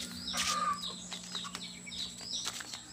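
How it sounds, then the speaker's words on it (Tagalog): A rooster calls in short high crowing bursts nearby, with fowl clucking and some wing flapping around it. "Grabe pa naman to masipag to tumilaok"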